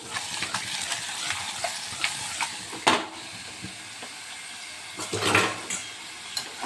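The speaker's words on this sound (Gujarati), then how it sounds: "ચમચાથી આપણે હલાવી લઈશું" A spoon scrapes and stirs through radish greens with gram flour, salt and turmeric in a pan, with soft sizzling underneath and a few louder clinks against the pot.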